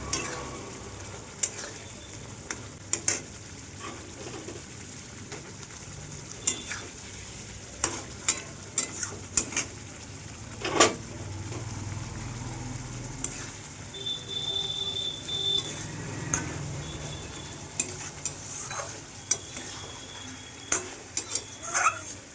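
Pomfret fish dropped into a pan of spiced masala, a steady sizzle running throughout while a utensil scrapes and knocks against the pan in scattered strokes.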